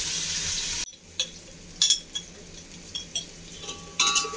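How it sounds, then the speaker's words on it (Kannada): Onions frying in a pan for hotel-style mutton biryani, a steady soft sizzle broken by a few sharp stirring scrapes and clinks near the pan, with no talk. "ನೋಡಿ, ಇವಾಗ ಈರುಳ್ಳಿ ಫ್ರೈ ಆಗಿದೆ."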